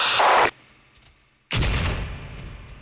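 A loud hissing burst cuts off, then after a second of quiet a heavy grenade boom erupts and rumbles away in a video game.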